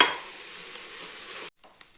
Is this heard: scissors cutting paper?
no